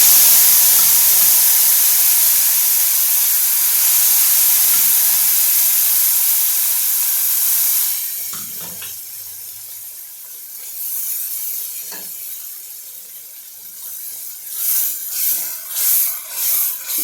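Split dal tipped into hot ghee tempering with asafoetida and curry leaves for Rajasthani dal, a loud steady sizzle for the first eight seconds that drops to a softer crackling hiss with a few stirring bumps.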